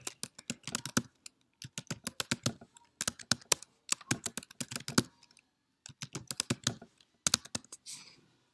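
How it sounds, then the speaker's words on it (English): Rapid bursts of computer keyboard typing as a new password is entered, clear close-up keystrokes in quick rhythmic runs separated by short pauses, with no talking. "Okay, so now they ask you to type the new password."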